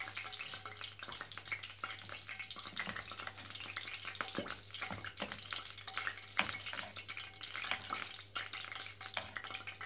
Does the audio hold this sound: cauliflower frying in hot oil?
yes